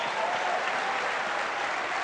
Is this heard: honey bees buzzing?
no